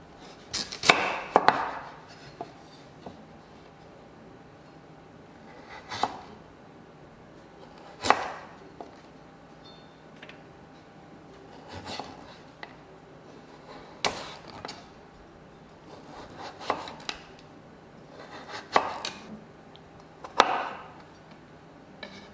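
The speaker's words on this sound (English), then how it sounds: "Cut into 1 centimeter cubes." A knife cuts pumpkin into small cubes on a board, sharp chopping knocks landing singly and in short clusters, separated by quiet gaps, close and clear.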